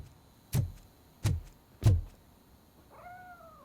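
Grumpy the cat in the video game RoboCop: Rogue City gives a short, quiet meow near the end, after three sharp, evenly spaced thuds.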